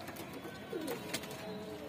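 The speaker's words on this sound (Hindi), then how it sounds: "ये अपना जीरिया कबूतर है, ये पीली आंखों का।" A yellow-eyed Ziriya pigeon cooing softly at close range, a few low murmuring coos over faint background noise.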